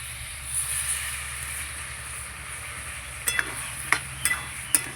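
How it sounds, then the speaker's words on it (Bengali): Jackfruit, potato and paneer curry cooks with sour curd and spices in a pan, giving a low steady sizzle with soft stirring, then several sharp utensil clinks and scrapes near the end. "ভালো করে আমি কষিয়ে নেব"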